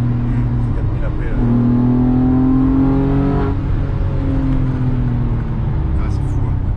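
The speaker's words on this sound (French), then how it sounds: "passer les 4000, t'as ce son moteur et c'est inimitable" Porsche Carrera 4 flat-six engine revving past 4000 rpm, a loud, steady, rising and falling engine note heard close from inside the car, with a person talking over it.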